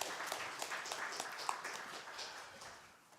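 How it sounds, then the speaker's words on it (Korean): A congregation claps during a Korean Sunday church service, a dense scattered patter of hand claps that fades gradually toward the end, heard from a moderate distance in a reverberant hall. "하나님께 영광의 박수 올려드립니다."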